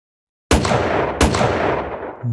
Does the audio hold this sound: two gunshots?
yes